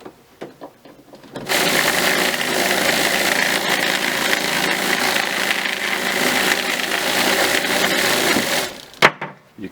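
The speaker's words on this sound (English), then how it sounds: "the vibrating there with the media up against the brass is going to leave it nice and polished when it's done" A vibratory tumbler running with media against brass cartridge cases starts up after a quiet second and holds a steady, loud, rattling buzz for about seven seconds before cutting off abruptly.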